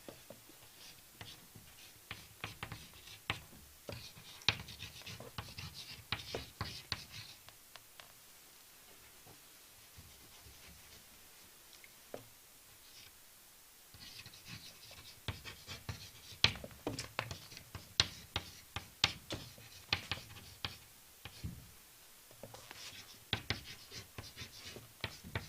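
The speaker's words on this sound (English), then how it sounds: "So I'll write the title on the board." Chalk or marker writing a title on a classroom board during a biology lesson: faint, close scratching and tapping strokes in irregular bursts with short pauses, no talk.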